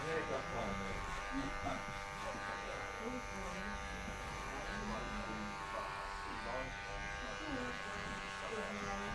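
Electric hair clippers with a number 2 guard cut hair during a haircut, a steady close buzzing hum that continues throughout while a person talks over it.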